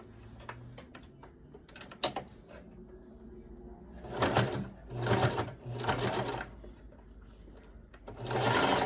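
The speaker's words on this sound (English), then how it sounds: "this is stretch fabric, so you're going to use a zigzag stitch when sewing" A sewing machine runs a zigzag stitch on stretch fabric for a backless sequin dress, whirring in several short bursts with pauses between, close and clear.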